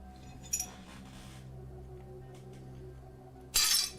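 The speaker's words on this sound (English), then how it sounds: "Yep, still glass." Glass breaks in two bursts: a brief tinkle near the start, then a louder, sharper shattering crash near the end, with a quiet hum in between.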